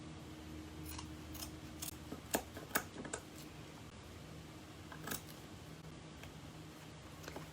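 Scissors snipping upholstery fabric back along a staple line on a love seat, a few crisp cuts standing out over a steady low background hum.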